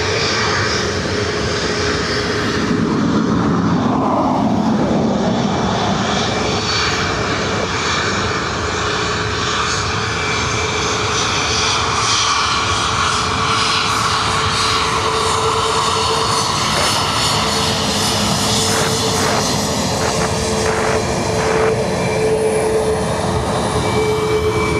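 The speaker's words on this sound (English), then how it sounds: "The Ryanair heading to Liverpool." Ryanair jet bound for Liverpool at Dublin Airport, its engines roaring loudly and steadily throughout with a slowly shifting whine as it moves along the runway.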